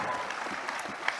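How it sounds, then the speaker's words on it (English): Applause from an audience at the AGRF 2022 summit's agripreneur pitch final comes through as a brief, fairly faint patter of clapping. "give her a round of applause."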